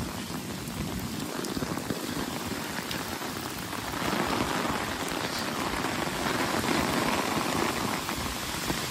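Heavy rain falls steadily in Dubrovnik, Croatia, making a dense hiss and patter on surfaces that builds slightly in the second half. No voices can be heard.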